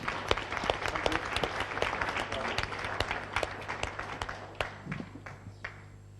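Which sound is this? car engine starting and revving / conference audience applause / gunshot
conference audience applause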